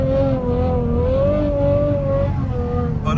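A Ferrari F12 drives through snow with a steady, droning engine note that holds even throughout, loud and close from inside the car.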